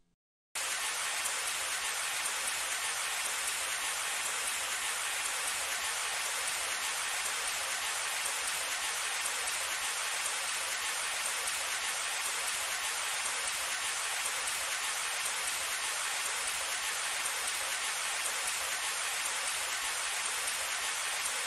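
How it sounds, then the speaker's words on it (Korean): Steady rain falling with dense, even patter of raindrops, continuous and unchanging in level, no voices. "빗방울이 고요한 리듬으로 떨어지며 마음속 깊이 스며듭니다."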